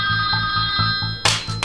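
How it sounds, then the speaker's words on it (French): A mobile phone ringtone goes off loudly, a repeating electronic tone pattern with a steady pulsing rhythm close by, followed by a brighter burst near the end. "j'ai oublié d'éteindre ma sonnerie, ça arrive à tout le monde"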